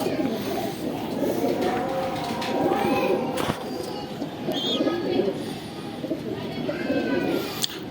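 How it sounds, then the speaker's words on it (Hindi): Ferozpuri pigeons in a fancier's loft coo nearby in soft, repeated calls, with a voice talking over them for much of the time. "ये उस्ताद जी के कबूतर हैं"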